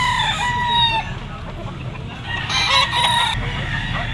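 Roosters and stags at a crowded outdoor poultry market in the Philippines, with one loud crow up front followed by scattered clucks and further crowing amid a steady crowd murmur.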